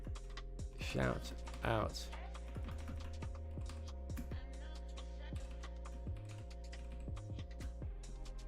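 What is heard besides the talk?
typing on a computer keyboard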